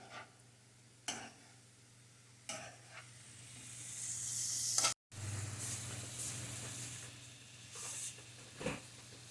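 Vegetables for Thanksgiving dressing sauté in a pan with a steady close sizzle, broken by several stirring scrapes and one brief cut to silence before the frying resumes louder.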